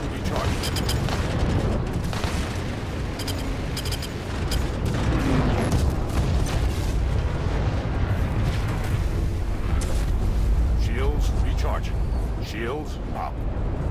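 Missiles hit a ship in the Star Citizen video game, producing continuous heavy rumbling explosions and booms, loud and dense, with a voice speaking over the barrage.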